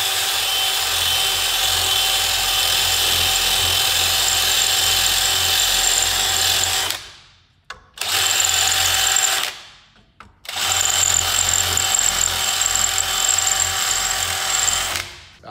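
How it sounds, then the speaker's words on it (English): A power drill drills out stitch welds on a car brake booster, running loud and steady with a high whine, stopping briefly twice before carrying on to the end, with no talk over it. "There is a stitch weld right there, and right there we'll drill out"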